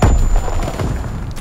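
Artillery strike explosions in the World War II shooter game Call of Duty: WWII, on the Shipment 1944 map in a domination match: a heavy, low boom opens, then a rumbling roll of blasts that fades off.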